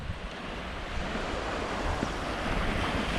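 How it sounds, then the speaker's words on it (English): Steady broadband surf on a sunny Grand Cayman beach, waves washing continuously with a faint swell around the middle, wind buffeting the microphone, no voices. "we made it to the beach."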